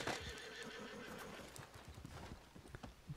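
Horse in a video game clip-clopping steadily with repeated neighs and whinnies, loud and close throughout, with no talk over it.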